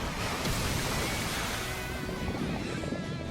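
Water special move effect in the football video game Inazuma Eleven Victory Road, a dense rushing, splashing wash of water noise that stays loud and steady for a few seconds with no talking.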